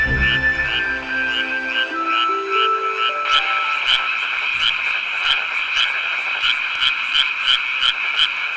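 Male tree frogs calling in a dense chorus, rapid repeated croaking pulses overlapping at close range, loud and continuous, with a steady rhythmic trill throughout.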